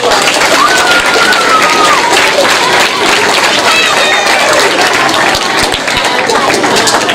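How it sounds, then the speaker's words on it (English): Fourth-grade students at a school essay contest ceremony applauding, loud dense clapping that fills the room and continues steadily with a few cheers mixed in. "So give yourself a round of applause."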